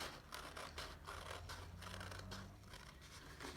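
Scissors snip through paper during a children's cutting-practice lesson, a steady series of close, crisp cuts and scrapes with no talking.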